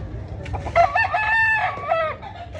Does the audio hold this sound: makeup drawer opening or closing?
no